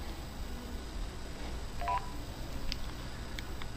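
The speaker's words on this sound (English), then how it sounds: "Now I'm going to dial star 611." Keypad tones on a Cricket phone dialing star 611, a few short electronic beeps at close range over a steady background hiss, no one speaking.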